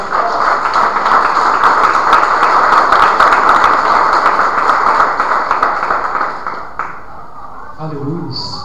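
A church congregation applauds in a dense, steady wash of clapping for several seconds before it fades away, with a voice emerging briefly at the end.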